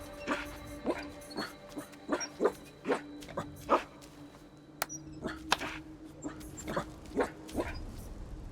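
Dogs barking in the Assassin's Creed Shadows video game: a quick series of close, sharp barks and yips, fairly evenly spaced, with brief whimpering sounds mixed in.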